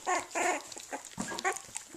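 A small mini dog wearing a little orange collar makes eager, scrappy noises while eating, with short bursts of whimpering and snuffling that come in irregular clusters, close and fairly loud, among other dogs.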